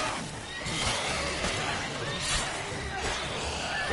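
Roach, the horse in The Witcher 3, whinnies over a busy game soundscape, the neigh rising and falling through the middle of the stretch with steady background noise and someone talking.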